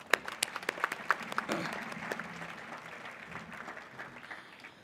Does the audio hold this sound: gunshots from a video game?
no